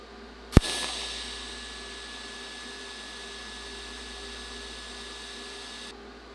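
A TIG welder lays a final pass on a quarter coin fused to metal: a sharp strike, then a steady, quiet electric hiss and buzz that cuts off abruptly near the end.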